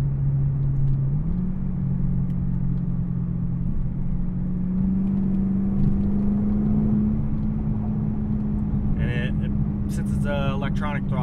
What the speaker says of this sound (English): Electronic throttle, it basically rev matches, and it just sounds so good.